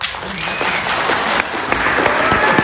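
Audience applause fills a public hearing on land use codes for Colorado farmers, a steady, dense wash of clapping heard close and sustained throughout.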